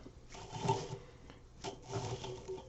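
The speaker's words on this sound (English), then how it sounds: "Pulling tow out so that people can spin and weave this. It's akin to carding wool." Hemp fibres are drawn through a nail hackle to make tow. Two soft, rasping, rubbing strokes come about a second apart, fairly quiet and close.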